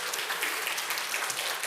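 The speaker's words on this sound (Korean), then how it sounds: "우리 일어나지 마시고 박수 한번 쳐드릴까요?" A church congregation applauds during a Sunday service, dense steady clapping filling the short stretch without pause.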